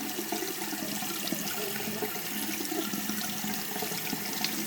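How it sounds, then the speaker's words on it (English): Running tap water rinses a few silver coins during tarnish cleaning, a steady close splashing and trickling stream that continues without a break and with no voices. "So I'm going to rinse these off,"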